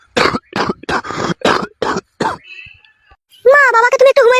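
A father gives a run of six harsh, chesty coughs at a steady rhythm, loud and near. After a pause a higher voice begins talking.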